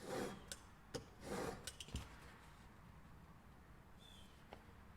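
A VPA single bevel broadhead is drawn across a sharpening stone in a few soft, gritty rubbing strokes with light metallic taps, then falls to quiet room hiss.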